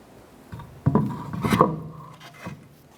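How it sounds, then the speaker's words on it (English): A wheel is lifted onto the rear hub of a 2006-2013 Chevrolet Impala, giving a few close metallic clunks and scrapes followed by a softer knock. "Let's go ahead and install your wheel."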